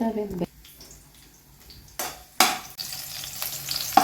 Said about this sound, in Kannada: ಎಣ್ಣೆ ಹಾಕೊಂಡಾದ್ಮೇಲೆ ಈಗ ಬೆಳ್ಳುಳ್ಳಿ ಹಾಕೊಂಡ್ರಿ